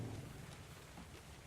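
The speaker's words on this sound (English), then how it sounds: "It is starting to rain." Rain beginning to fall in ARK: Survival Evolved, a steady faint hiss of drops with a low rumble beneath, continuous and even throughout with no voices.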